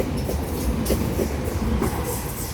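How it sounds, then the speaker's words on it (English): An eight-car passenger train rolls through Normanhurst station at steady volume, wheels clattering rhythmically over the rails, with no talking. "We have a train passing platform number"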